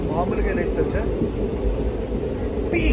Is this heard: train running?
yes